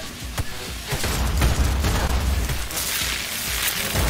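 Gunfire and a grenade blast from the video game Cyberpunk played on an Xbox Series X, heard as a dense burst of booms and rapid shots with a rumbling tail.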